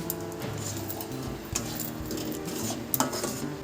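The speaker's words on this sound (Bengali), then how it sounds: "এবার সব কিছু ভালো করে মিক্স করে নেব।" Kashmiri chilli powder and dried chilli powder are stirred together in a pan, producing close metallic clinks and scraping of a utensil against the pan over a faint background sizzle, with a sharper knock near the end.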